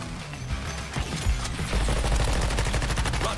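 Gunfire in the video game Suicide Squad: Kill The Justice League: a few sharp shots, then a rapid automatic burst of evenly spaced reports dominating the second half.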